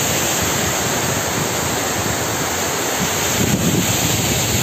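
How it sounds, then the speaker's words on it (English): Waterfall at the Charlotte Lake dam in Matheran on a windy day, a constant loud roar of rushing water mixed with heavy wind buffeting the microphone, no voices. "This is the waterfall, the dam area of Charlotte Lake."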